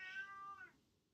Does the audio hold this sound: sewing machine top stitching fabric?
no